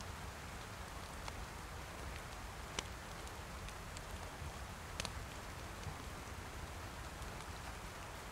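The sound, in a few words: rain falling in DayZ video game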